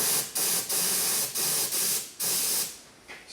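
A paint spray gun blasting fine paint mist in a series of loud hissing bursts, about seven sprays separated by brief pauses, close up and with no talking, while coating the inner cowl of a junkyard Cadillac.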